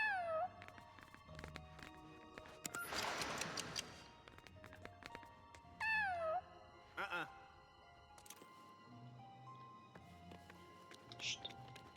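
A cat meows in the LEGO Batman: Legacy of the Dark Knight video game. Two rising-and-falling meows stand out among clicks, ticking, and other game effects, with voices talking in between.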